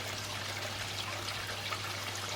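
Water flows steadily from a pond fountain outlet, a soft continuous trickling wash heard at a moderate distance with no talking.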